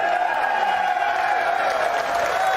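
Crowd at a poker tournament (World Series of Poker) cheering and applauding, a steady dense roar of claps and voices filling the space throughout, loud and continuous.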